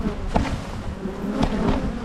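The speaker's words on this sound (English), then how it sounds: "Lots of bees on me. They're all coming at me." Honey bees buzzing around an open grey beehive during an inspection, a steady dense hum of many insects close by, continuous and unbroken throughout.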